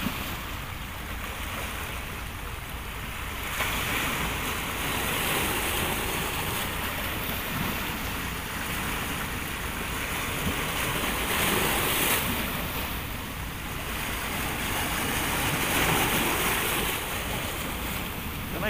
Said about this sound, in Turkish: Kanallardan su giriyor ya denize.